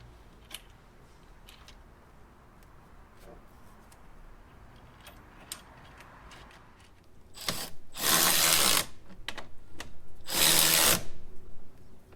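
Power driver with a 5/16 hex bit driving screws while mounting KC HiLiTES Apollo Pro 6-inch lights, two loud close whirring bursts after a stretch of quiet ticking and handling noises.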